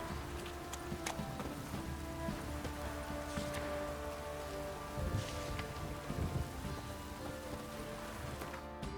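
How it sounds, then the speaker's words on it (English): In The Witcher 3: Wild Hunt, heavy rain patters steadily and softly, with a horse's hoof clops and occasional clicks mixed in beneath the downpour. "This downpour's a bastard, it is."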